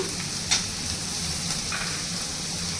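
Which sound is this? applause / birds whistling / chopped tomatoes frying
chopped tomatoes frying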